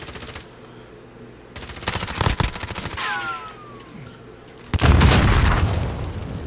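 Shooter video game firefight with RPGs in play: loud machine-gun bursts and single heavy shots come in clusters, a whooshing projectile sweeps past midway, and a big booming volley hits near the end, with no one talking.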